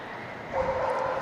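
Dogs at a pet expo jumping contest yip and bark in a short burst, a raised yelping cry rising partway through over steady crowd hubbub.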